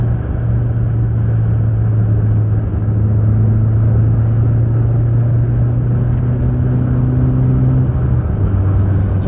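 A 1997 Subaru Impreza HX-20S with a non-turbo 2-litre engine drives at a steady cruise, with a constant low engine drone and rumble under a broad rush of wind noise through tired door seals, heard from inside the cabin.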